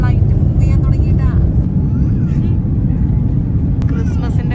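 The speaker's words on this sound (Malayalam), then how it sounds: "നമ്മുടെ ഫ്ലൈറ്റ് മൂവ് ചെയ്യാൻ തുടങ്ങിയിട്ടാ" An airliner beginning to taxi, heard from inside the cabin on a flight from Adelaide to Singapore, gives a steady loud low engine rumble throughout, with faint voices nearby.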